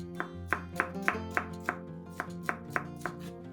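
A knife chops a red bell pepper into small pieces on a cutting board, about a dozen crisp, evenly spaced strokes close up in a quiet kitchen.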